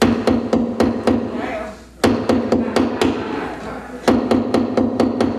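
Sharp, rapid hammer strikes ring out in quick bursts, a short pause, then more steady blows, loud and close.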